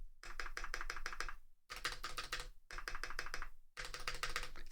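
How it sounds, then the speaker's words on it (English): Typing on a Keychron V1 Ultra 8K wireless keyboard, close and clear, with quick bursts of crisp key clicks separated by brief pauses, with no talking. "This keyboard is the Keychron V1 Ultra 8K wireless."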